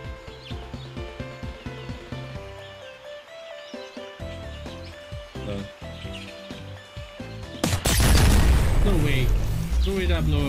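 A loud in-game explosion bursts out near the end of a stretch of rhythmic thumping game sounds during a squirrel-with-a-gun shooter, the blast's broadband roar sustaining for a few seconds afterward.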